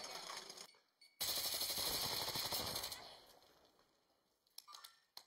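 Gunfire in the Apex Legends video game, a rapid burst of automatic shots that fades off, then a few scattered quieter shots near the end, without talk.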